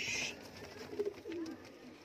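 Teddy pigeons coo softly at close range, with a few low, rolling coos sounding over a faint background hiss.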